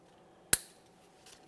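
A single sharp snip of cutters trimming the excess tail off a wire tie on the bellows boot of a 2014-2018 Mazda 3 front steering rack, one crisp close click with a short decay, then quiet.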